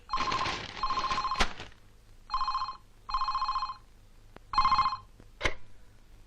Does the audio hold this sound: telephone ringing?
yes